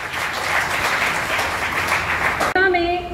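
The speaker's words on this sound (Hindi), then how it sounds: "तालियां हो अपने लिए।" Attendees at a family get-together of a Rajput community association applaud in a sustained, fairly loud burst of clapping that cuts off abruptly near the end, leaving a short musical tone.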